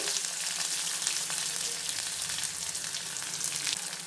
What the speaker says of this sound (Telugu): ఈ టైంలో మనము ఆనియన్స్ని తరుక్కున్న ఆనియన్స్ని వేసేద్దాము